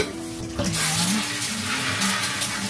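Food is rinsed under a running kitchen tap, producing a loud, close, continuous hiss of splashing water with shifting spatter as the food is moved in the stream.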